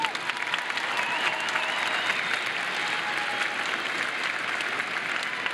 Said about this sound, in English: Graduates, please join me in a round of applause for your family and your friends.